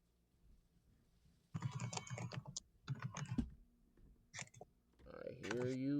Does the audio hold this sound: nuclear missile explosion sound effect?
no